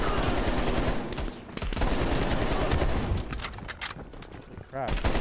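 Sustained, loud minigun fire in the Black Ops Cold War campaign, a dense continuous roar of rapid shots lasting nearly the whole stretch with brief dips, other battle noise mixed in.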